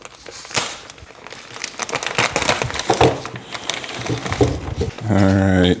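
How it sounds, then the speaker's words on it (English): Packaging for a BMW fuel starvation kit being cut and torn open, with crinkling, crunching and snapping bursts close by, and a brief tonal whine near the end. "So let's go ahead and cut this open."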